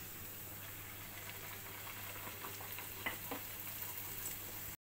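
Bhatura dough sizzles in hot oil, a steady close frying hiss with faint crackles and small pops, fairly quiet and alone throughout.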